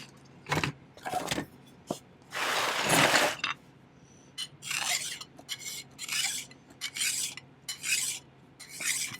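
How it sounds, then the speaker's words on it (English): A metal file rasping on a small jasper pendant piece to neaten its edges, heard as a run of short, close strokes in irregular bursts, including one longer stretch of filing, with no talking. "I'm just going to kind of file this to neaten it up."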